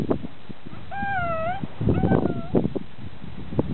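A person imitates a cat's meow, giving two drawn-out, wavering mewing calls close to the microphone, with background talk and household noise around them.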